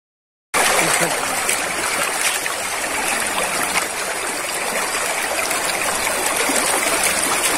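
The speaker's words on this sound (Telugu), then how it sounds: "నీళ్ళు ఎంత ఫోర్స్గా వస్తున్నాయో" Water pours forcefully from waterfalls at a forest temple, a loud, continuous rushing roar that starts suddenly after a short silence and holds steady throughout.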